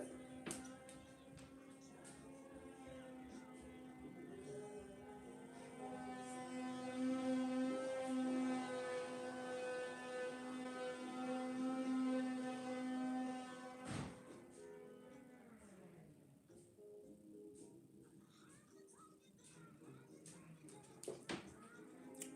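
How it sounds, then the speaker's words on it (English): A small vacuum cleaner running in another room gives off a steady tonal whine with a hum that rises in pitch midway, then winds down and cuts off, faint and muffled under the quiet room sound. "that's the vacuum"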